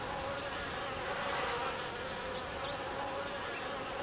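Hornets and honeybees buzzing steadily around beehives at an apiary, a continuous droning hum of many insects close by with no voices.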